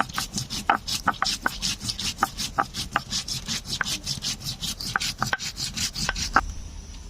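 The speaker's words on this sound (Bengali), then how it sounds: "এখন কিছু মশলা বেটে নিচ্ছি। এখানে নিয়েছি জিরে আর ধনিয়া" Cumin and coriander seeds are ground wet with water on a grinding stone, giving a steady, rhythmic back-and-forth scraping and rubbing that stays close and fairly loud throughout with no talking.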